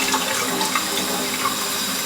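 Cold tap water running into a kitchen sink over hard-boiled eggs being peeled, a steady close splashing hiss with small shifts as the stream hits shells and hands.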